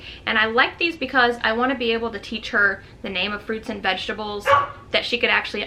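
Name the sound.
dog barking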